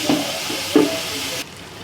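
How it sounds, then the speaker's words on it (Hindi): Boiled minced meat (keema) fries with rice in a pot for aloo keema pulao, a close, steady sizzle broken by two stirring scrapes. "इसको हम इनके साथ तकरीबन 5 मिनट के लिए फ्राई करेंगे।"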